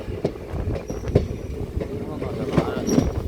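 Passenger train on the Punalur to Aryankavu line rolling along, a steady rumble with periodic wheel clicks and knocks, heard from inside the carriage with faint voices in the background.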